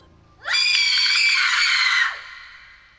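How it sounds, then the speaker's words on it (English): A blood-curdling scream sound effect: one shrill, sustained shriek that bursts in suddenly, holds loud and close for about a second and a half, then cuts off with a short fading tail. "It was then that she heard a blood-curdling scream."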